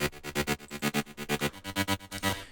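Rolling bass line from a progressive house drop made in FL Studio 20, pulsing in rapid, evenly spaced throbs with a bright, gated synth texture, steady and alone with no voices.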